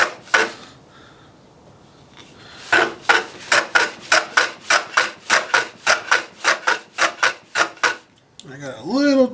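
A jointer takes repeated passes along a wood edge, producing a steady series of rhythmic, fairly loud rasping cuts that clean up the board, ending in a brief whirring rundown.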